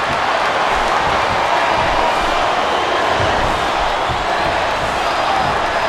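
Crowd cheering in the WWE SmackDown vs Raw 2008 wrestling video game, a dense, steady roar of arena noise with faint whoops mixed in, sustained at an even level throughout.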